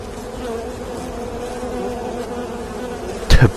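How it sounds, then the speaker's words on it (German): A bee swarm attack in the video game I Expect You To Die, heard as a loud, continuous buzzing drone of many insects close by, with a sharp thump near the end. "Der Bienenattacke"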